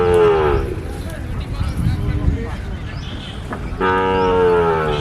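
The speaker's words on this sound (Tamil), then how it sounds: "இங்கே ஒரு காரி கட்டி இருக்கிறாங்க." Kangeyam cattle at a livestock market low out in two long moos, one at the start and another near the end, loud and close, with voices talking in between.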